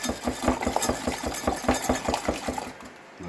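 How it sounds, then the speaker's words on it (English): Three eggs whisked in a bowl for Yorkshire pudding batter: fast, even, rhythmic clinking strokes, close and clear, with no talking. "whisk them up"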